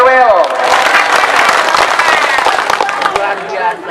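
A congregation at a large Islamic tabligh and dzikir gathering in Central Java applauds, with dense, steady clapping lasting several seconds and a few voices mixed in.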